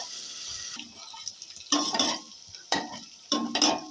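Ginger and garlic fry in a pan, with quiet sizzling broken by three or four bursts of scraping as a spoon stirs them, close and fairly soft.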